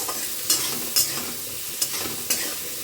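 Potatoes fry with turmeric in a pan, a continuous close sizzle with four sharp scraping stirs at roughly even intervals.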